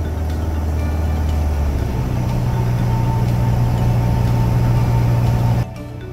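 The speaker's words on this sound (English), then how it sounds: "you'll hear the engine noise decrease sharply." Light aircraft engine at cruise altitude of 7,500 feet, a steady loud drone that holds, then drops sharply in level and pitch near the end as power is reduced for descent.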